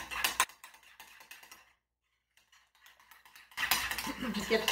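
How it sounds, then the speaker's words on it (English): A spoon stirs anchovy paste and a teaspoon of Dijon mustard in a bowl for creamy Caesar dressing, giving close, quiet clinking and scraping strokes with a silent pause in the middle. "And a teaspoon of Dijon mustard. I'm going to start stirring that around."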